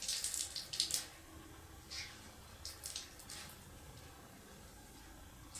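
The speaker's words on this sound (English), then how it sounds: "you can also wet your washcloth" Water squeezed out of a wet washcloth, a few quick splashy trickles and drips at the start followed by softer dribbles, close and fairly quiet.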